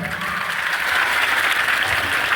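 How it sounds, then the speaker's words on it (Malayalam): Audience applause at a school comedy show, a dense, steady wash of clapping hands that stays loud and even from start to finish, with no voices rising above it. "ഇതായാലും നല്ലൊരു കൈയടി ആദ്യം തന്നെ"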